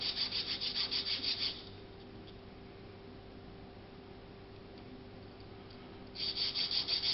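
A metal file rasps across an AR-15 A2 birdcage flash hider with a coarse file, giving rhythmic scraping strokes at the start and end and a quiet pause between.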